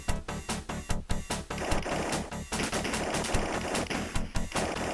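Rapid bursts of gunfire from a Sega RoboCop-style video game, with repeated sharp shots and rattling automatic fire running continuously, loud and close, with no talking.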